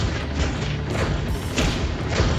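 In the Marvel Rivals video game, the Punisher's turret rattles out continuous automatic machine-gun fire without pauses, a loud, dense stream of shots blended into busy in-game noise.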